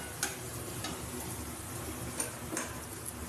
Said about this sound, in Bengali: আদাটা যেহেতু দিয়েছি আরও বেশ কিছুক্ষণ ধরে একটু নাড়াচাড়া করে ঝোলটা কষিয়ে নেব